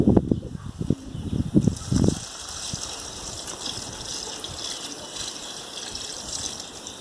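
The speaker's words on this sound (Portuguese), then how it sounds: "água, aproximadamente 15 litros de água. Eu vou pôr aqui só para vocês poderem observar." About 15 litres of water being poured, a steady trickling and gushing stream that continues after a few seconds of someone talking at the start.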